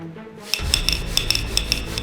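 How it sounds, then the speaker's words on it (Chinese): A coin rattles under an upturned drinking glass on a hard tabletop during a close-up magic trick: a rapid, steady stream of bright metallic clinks and chatters, close and clear, with no voices. "但是你可以听见这个硬币"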